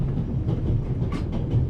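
Train rolling along rail tracks, a loud continuous low rumble with faint clicking from the wheels, steady throughout and heard alone.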